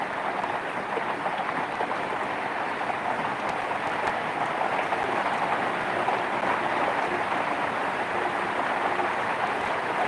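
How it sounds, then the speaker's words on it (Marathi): Heavy rain pours down steadily, a dense, even hiss of water drumming on surfaces with no letup and no voices. "आज पाऊस भरपूर म्हणजे भरपूरच आहे आवाज येत येतच असेल तुम्हाला"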